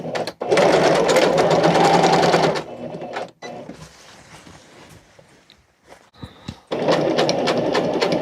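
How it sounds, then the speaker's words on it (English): Two loud bursts of a sewing machine doing a flat stitch on curtain fabric, a fast rhythmic drone at the start and again at the end, with a quiet gap of faint handling sounds between them. "now I'm gonna go ahead and do a"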